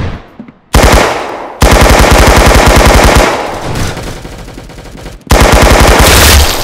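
Rapid automatic gunfire in the Roblox game Arsenal, loud dense bursts of machine-gun shots broken by brief gaps, close and dominant without speech.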